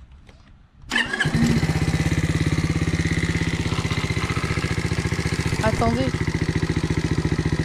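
A Skyteam Dax 50cc moped, a 2020 black edition with injection, cranks and catches, then settles into a loud, close, rapidly pulsing idle that runs on steadily while someone talks over it.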